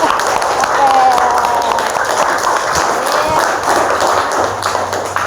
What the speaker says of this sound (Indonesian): Bagus, tepuk tangan untuk kalian sendiri.